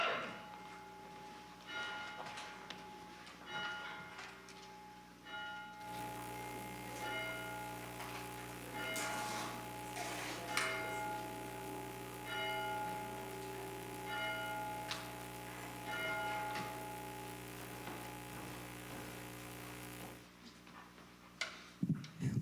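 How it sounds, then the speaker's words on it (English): A bell rings at the opening of a Sunday church service, its steady ringing tone sustained for several seconds as a low hum of the room carries underneath, ending in quiet indoor noises. "We begin our service with the ringing of the bell and the lighting of the"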